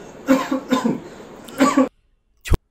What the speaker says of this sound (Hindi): सांस की नली में धुआं या कुछ और दाखिल हो जाने से खांसी का आना